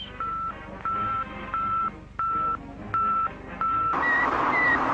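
Repeating electronic radio beeps from the Sputnik satellite, steady tones pulsing on and off at a regular pace over a hissy, static-filled background.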